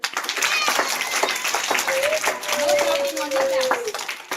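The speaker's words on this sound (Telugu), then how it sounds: "క్లాప్స్ కొట్టండి ఒకసారి" Audience clapping and cheering at a student event spread through the whole stretch, dense and steady, with children's voices and a faint whistle mixed into the noise.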